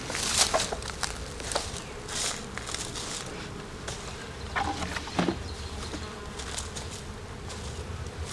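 Honey bees buzz around an open hive during an inspection ahead of a hive split, a soft steady hum with individual bees zipping past close by and light handling noises between.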